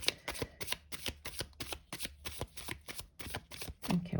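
Tarot cards are shuffled again and again in a steady rhythm of crisp riffling bursts, close up with no talking.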